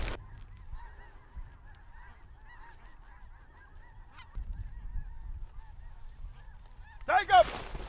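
Geese honking repeatedly at a distance during a bird hunt in Alaska, a steady chorus of calls over low wind noise, with a louder burst of honks near the end.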